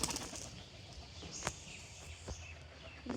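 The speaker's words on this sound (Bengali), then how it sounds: "তো পায়রাটাকে ধরে নিয়েছি, দেখো এটাকে বাইরে ছাড়ি।" A pigeon released outdoors gives a few faint, quick wing flaps that come as brief scattered bursts against soft background ambience.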